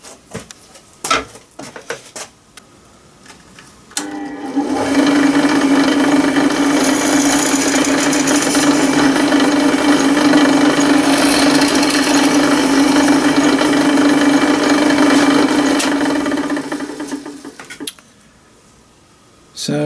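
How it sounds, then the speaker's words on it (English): Power drill boring holes in the metal frames of a scratch-built Gauge 1 live steam locomotive: a few handling clicks, then a loud, steady, close whirring grind lasting about thirteen seconds before stopping. "So there's the four holes drilled on the frames."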